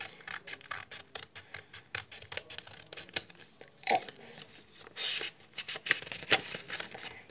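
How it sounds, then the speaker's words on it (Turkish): Quick, crisp snips and rustling paper repeat in an irregular rhythm, close and moderately quiet, as scissors trim uneven notebook page edges. "Ben o yerleri makas sayesinde düzeltiyorum."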